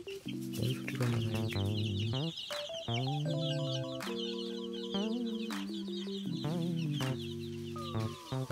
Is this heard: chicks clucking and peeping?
yes